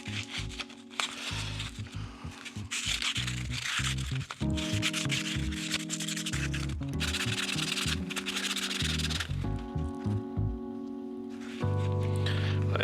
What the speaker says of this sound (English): So I'm just going to start out with some 600 grit.